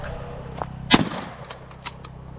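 A single shotgun blast fired at a thrown frisbee outdoors, one loud sharp report with a short ringing tail, followed by fainter after-sounds.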